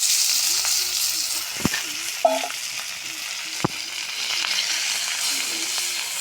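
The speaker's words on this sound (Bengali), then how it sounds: "মাছটা এবার আমরা ভাজে নেব তেল গরম হয়ে গেছে" Small hilsa fish frying in hot oil on a griddle pan, a steady soft sizzle and crackle running through, with a couple of sharp clicks and a brief clatter of utensils.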